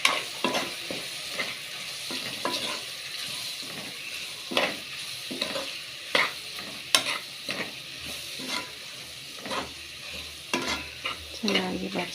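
Tomato and capsicum sauté with chilli, coriander and cumin powders, a soft steady sizzle broken by repeated scraping spatula strokes against the pan, irregular and close, with no voices.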